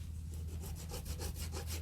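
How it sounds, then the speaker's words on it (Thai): Saw blade scraping and sawing across a coconut shell, a steady rhythmic rasp of repeated strokes, close and moderately loud, with no talking. "ที่ใช้ตัวใบเลื่อยนะคะ"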